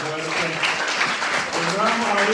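A church congregation applauds together, a steady wash of clapping that fills the whole stretch at an even loudness, with voices mixed in underneath.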